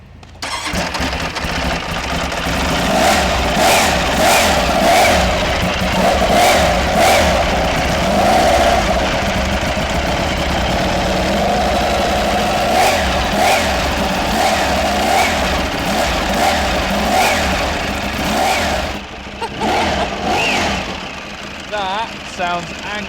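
The cold engine of a Ducati Desmosedici RR, a road-legal MotoGP-derived motorcycle, catches and runs loud and rough, with repeated sharp revs over a steady idle and voices talking intermittently nearby.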